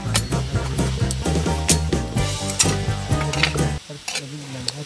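Cooking oil sizzling loudly in a pan over a wood fire, a dense crackling hiss with frequent metallic clatters and scrapes close by.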